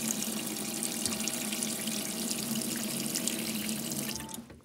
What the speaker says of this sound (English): Oh, hot water!